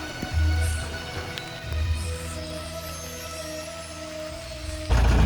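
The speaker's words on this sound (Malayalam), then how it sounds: "അയ്യോ നല്ല മഴ" Heavy rain on the forest road to Kudajadri during an evening off-road trip, a dense, steady hiss of rain on the surface with low rumbling bursts, heard close.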